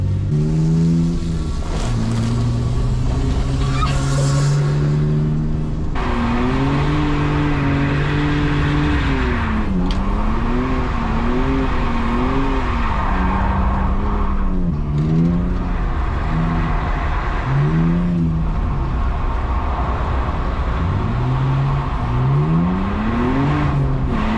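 A drift car revs hard in a field, its engine rising and falling through repeated throttle blips and sustained high revs, with skidding and tyre noise throughout, loud and close for the whole stretch.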